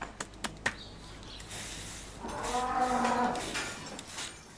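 A cow from a free-range organic farm herd lets out one long, low moo, preceded by a few sharp taps, against a quiet outdoor background.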